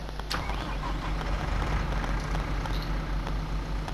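A tractor towing a trailer in a farming video game, its engine droning steadily and loudly throughout with a continuous low rumble and no pauses.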